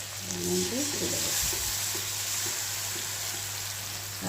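Washed spice paste for a Bengali eggplant kofta malai curry fries in a pan with a continuous bright sizzle, accompanied by a few soft stirring knocks and a faint low hum, with only a brief murmur of a voice near the start.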